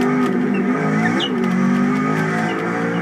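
Radical race car engine in the iRacing sim at Montreal, revving steadily with shifting pitch and a brief tire squeal, loud and continuous throughout with no talk.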